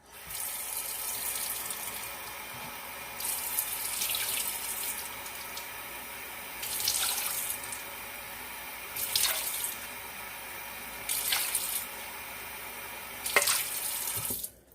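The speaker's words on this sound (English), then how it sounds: "So I'll get the water in here." Water pours into a mixing bowl in several short splashing bursts, separated by brief pauses, over a quiet steady background hiss.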